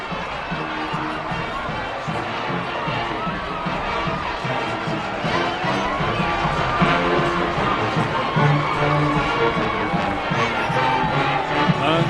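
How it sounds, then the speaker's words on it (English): A large crowd roars and cheers steadily at a high school football game between McKinney North and Highland Park, loud and continuous, with a rhythmic band or chant pulsing underneath. "Listen to this crowd."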